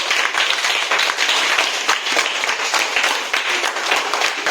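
Steady, dense applause from a gathered audience at a primary school event in Konkan, honouring a retired teacher, Mrs Neha Nandkumar Sawant; continuous clapping fills the whole stretch at even loudness without pause.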